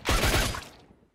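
A short, dense burst of gunfire erupts as a rapid volley of overlapping shots, then fades quickly into a brief tail of echo.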